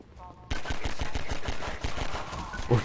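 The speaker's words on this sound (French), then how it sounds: "Vite, cours parce qu'ils vont te tirer dessus" Enemy gunfire in Half-Life 2 erupts as rapid, loud automatic bursts after a brief quiet start, sharp repeated shots continuing steadily with a heavier thump near the end.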